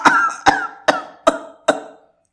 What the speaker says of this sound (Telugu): కంగు కంగున దగ్గాడు